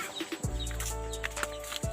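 Chickens and chicks on a hill farm, with a dense chorus of clucking and small peeping calls alongside a steady low rumble and a few sharp knocks.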